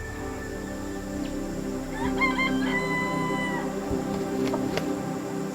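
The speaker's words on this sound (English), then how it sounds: "Those birds over there, they're the jungle fowl." In a wooded area of Singapore, a jungle fowl crows once with a short, clear call. The crow sits over a steady background of outdoor ambience and distant bird calls.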